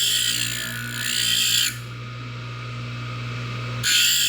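Steady close-up whine of a power grinder working a stainless steel piston ring, rising into brighter grinding passes twice over a constant motor hum, with no talk.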